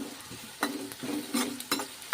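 Chopped onions with garlic and coriander stalks fry lightly in a pan for a dhaba-style sev tomato curry. A soft sizzle runs under the sharp scrapes and clinks of a spoon stirring, roughly five strokes, close up.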